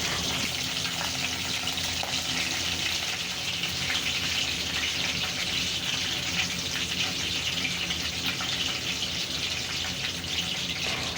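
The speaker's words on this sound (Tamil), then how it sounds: "அது நல்லா சூடானதுக்கப்புறம் அதில் நம்ம வச்சுருக்க கடுகும் கருவேப்பிலையும் சேர்த்துக்கோங்க" Mustard seeds and curry leaves hit hot oil and frying starts, producing a loud, dense, unbroken hiss and crackle that holds steady from start to finish with no gaps.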